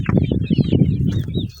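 Golden Japanese chickens clucking close by, a steady run of short, overlapping clucks from several birds with no one talking.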